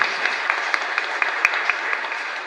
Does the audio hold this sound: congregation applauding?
yes